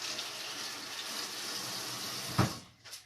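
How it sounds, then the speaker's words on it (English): Hands being washed under a running faucet at a sink, a steady close water stream for nearly three seconds, then a brief splash near the end as the flow is cut. "Wash your hands."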